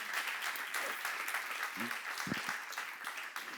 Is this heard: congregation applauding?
yes